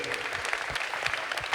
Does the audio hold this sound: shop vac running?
no